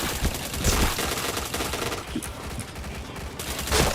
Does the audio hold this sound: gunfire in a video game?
yes